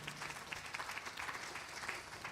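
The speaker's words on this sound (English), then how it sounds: "let me take a moment to give a round of applause to all of these beautiful young people and their chanting" Applause at a Bhaagvat Katha gathering for young chanters, a soft, distant patter of clapping from the audience that stays faint and fairly even across the moment.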